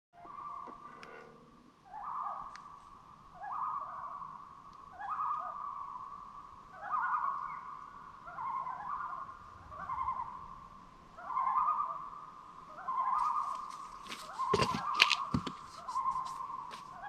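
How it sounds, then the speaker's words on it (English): Birds on a lake at night call repeatedly in short, evenly spaced hooting bursts, moderately distant and clear against a quiet background, with a brief rustle near the end. "lots of bird noise on this lake tonight."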